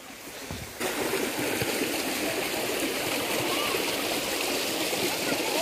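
Steady broadband rushing of a flowing village stream, close and continuous, with faint voices of a crowd murmuring underneath.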